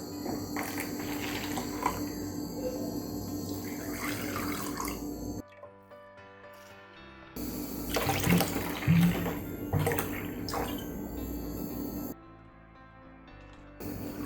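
Water runs and splashes into a bowl in two bursts separated by a short pause, close and steady, with faint kitchen clatter, while making panipuri.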